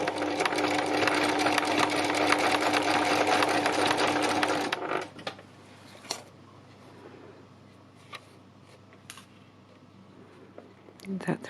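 A sewing machine stitching runs loud and steady for about five seconds, then stops, followed by quiet clicks and handling noises.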